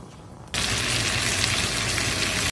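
Fenugreek and cumin seeds hit hot oil in a pan on the stove, setting off a sudden loud, continuous sizzle that crackles steadily to the end, with no voices.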